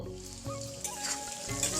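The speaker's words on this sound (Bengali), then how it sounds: "ওই তেলেই আমি এবার আলুটাকে দিয়ে দিলাম দিয়ে সামান্য লবণ আর হলুদ দিয়ে আমি একটু ভেজে নেব" Potatoes fry in oil seasoned with salt and turmeric, making a soft, continuous sizzle with a couple of brief stirring bursts, heard alone and fairly quiet.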